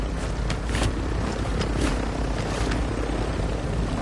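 A helicopter in the video game Call of Duty Modern Warfare 2, its rotor giving a loud, continuous whirring roar with faint rhythmic thumps, close by and steady throughout.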